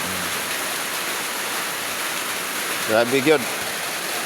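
Constant broadband rush of heavy flood water fills the clip, loud and steady, with a brief voice speaking near the end.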